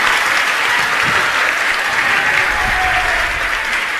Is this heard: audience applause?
yes